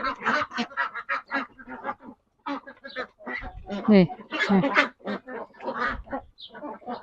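Several ducks quack close by in busy, overlapping bursts, with a voice speaking briefly among the calls.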